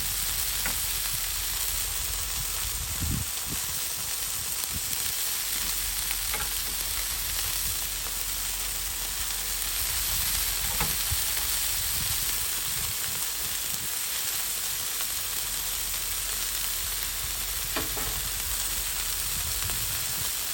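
Burger patties sizzle in butter on a Blackstone griddle, a loud, steady, close frying hiss with occasional soft spatula taps and scrapes, no voices.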